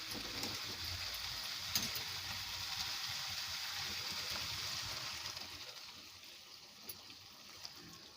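Water poured onto potatoes in a cooking pot for a simple village-style Malvani bhaji, a steady soft trickling and splashing that runs throughout and eases slightly near the end, no talking.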